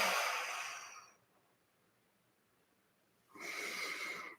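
Two strong breathy exhales during a stretching exercise, the first about a second long, then a pause of near silence before a second long exhale, both close and fairly loud.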